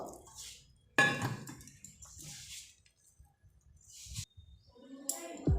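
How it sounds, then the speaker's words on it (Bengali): Wheat flour dough is kneaded by hand with hot water poured in a little at a time: quiet, close, intermittent wet squishes and drips, with a couple of sharp clinks from a bowl or utensil. "অল্প অল্প জল দিয়ে দিয়ে আমি আটাটাকে মেখে নেব"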